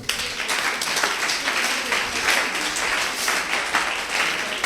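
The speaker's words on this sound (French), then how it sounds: "Acclame très fort le Seigneur." A church congregation applauds during a service. The clapping is dense and continuous, loud and close, with a few voices mixed into the steady roar.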